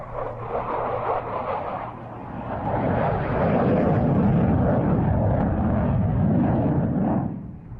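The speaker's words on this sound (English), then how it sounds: "He'll cross the runway at 500 feet and perform a rolling pitch up as he turns to the downwind leg of the landing pattern." A military jet at an air show at IWM Duxford crosses the runway at 500 feet and pitches up into the landing pattern, making a loud, broad engine roar that swells and holds steady before easing off.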